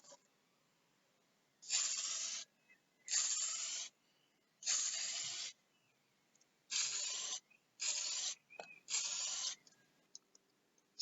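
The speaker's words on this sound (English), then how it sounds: "spray with hopefully some nice even coats" Spray varnish hissing onto a painted custom fantasy miniature propped on cardboard, in six separate bursts of roughly a second each with short pauses between, close and steady.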